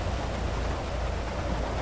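Steady rain in a GTA roleplay video game, a dense, even hiss of falling water filling the whole clip with no pauses and no talk.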